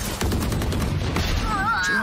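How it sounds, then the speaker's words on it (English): Gunfire in the tactical shooter Valorant during a VCT 2021 Challengers match, a wall-bang shot through cover: a loud burst of rapid shots followed by game effects and a rising tonal whine near the end. "Echo gets that wall bang there on the Halbae"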